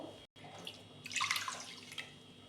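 Water poured into a cooking pot for making rasmalai syrup with sugar, a brief splashing stream that swells to its fullest in the middle and then tapers, close by with no talk.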